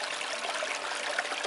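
Water rushes steadily through a 3D-printed gold sluice mat on a playground, a continuous close trickling and splashing flow with no voices.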